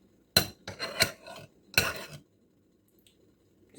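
A spoon and knife scrape and clink against a dish of butter being spread for homemade garlic bread, in a few short, close bursts over the first two seconds, then near silence. No one speaks.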